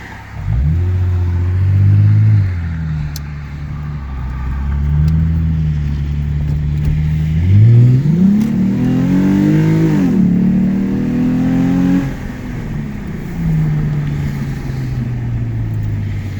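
A 2008 Lexus IS250 AWD with its muffler deleted idles loudly, then revs up sharply twice, the raw exhaust rising and falling before settling back to a steady idle, close and alone.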